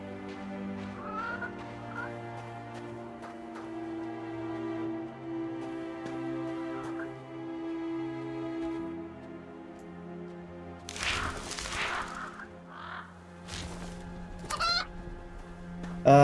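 A chicken in the dark Slavic role-playing game REKA clucks in short, scattered calls over a steady low musical drone, followed by a burst of louder flapping and squawking near the end.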